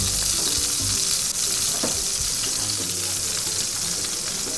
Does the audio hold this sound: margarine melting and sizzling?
yes